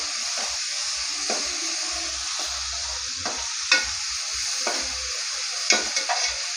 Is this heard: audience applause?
no